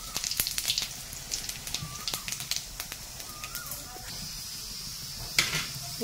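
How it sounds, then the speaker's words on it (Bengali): Dried red chillies and cumin seeds crackle in hot oil with scattered sharp pops and a low sizzle, close but fairly quiet, with no talking. "প্রথমেই শুকনো লঙ্কা দেব আর এই জিরেটা ফোড়ন দিয়ে নেব।"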